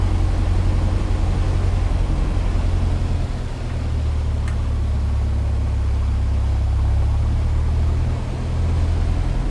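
A light aircraft's piston engine runs up past 1,000 RPM with the parking brake set, producing a loud, steady low drone that dips briefly twice and then holds, with no talk.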